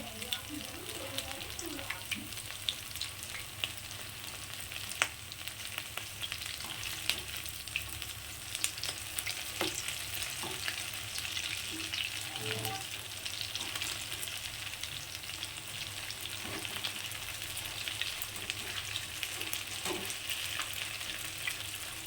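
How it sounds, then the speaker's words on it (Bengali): Bhetki fish kebabs shallow-frying in hot oil give a steady, faint sizzle with scattered small pops and crackles throughout, close to the pan and otherwise quiet. "এগুলোকে এখন লাল লাল করে ভেজে নেব"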